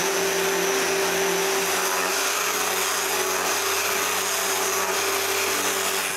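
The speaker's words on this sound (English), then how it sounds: "first I need to sand inside the frames" A power sander runs steadily inside the frames of a wooden bathroom vanity, giving a continuous loud whir with a constant tone and no breaks.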